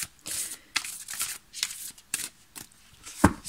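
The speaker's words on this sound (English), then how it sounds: "I'm going to shuffle a little and then I'm going to cut the deck" Tarot cards being shuffled by hand in several short riffling bursts with brief pauses between them, close and fairly quiet, ending with a sharp snap or tap of the deck.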